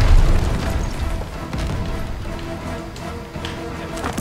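A tank blows up in Call of Duty Vanguard, with a loud, deep boom at the start that rolls into a sustained low rumble of burning wreckage and debris over the next few seconds.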